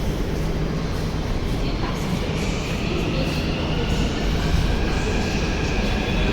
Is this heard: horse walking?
no